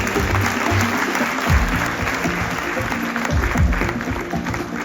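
An audience at a magic show claps together in a sustained round of applause, dense and fairly close, with a few brief low voice sounds mixed in.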